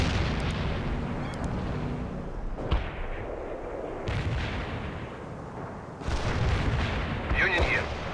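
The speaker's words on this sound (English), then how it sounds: "Light artillery fired on the mark." Light artillery firing in the video game World in Conflict, a series of heavy booming blasts and rumbling bursts spread across the clip, with radio-style voice chatter in between.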